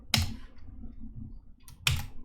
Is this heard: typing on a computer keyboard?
yes